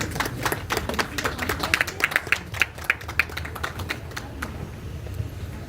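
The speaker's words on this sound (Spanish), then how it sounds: "Fuerte el aplauso." Applause at a literary event, sounding as a sparse patter of individual claps, several distinct hands near and sharp, fading out after about four seconds.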